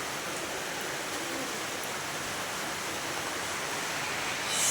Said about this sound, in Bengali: এখন বাজে দশটা দেখো কি বৃষ্টি হচ্ছে